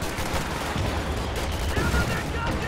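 Dense, continuous infantry strafe gunfire in the Company of Heroes 2 video game, a steady rattle of machine-gun and rifle fire heard close and loud without pause.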